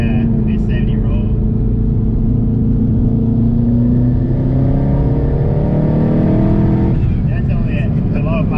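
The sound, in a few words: Hellhorse twin turbo 17 Mustang GT revving on dyno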